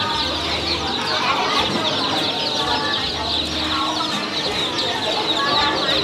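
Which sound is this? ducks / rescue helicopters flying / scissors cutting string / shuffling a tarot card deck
ducks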